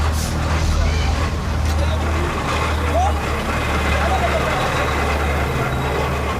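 A water delivery truck in Haiti rumbles steadily with a low engine drone and road noise throughout, loud and close, while people talk over it.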